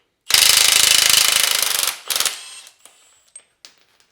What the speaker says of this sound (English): now we're going to back the nut out.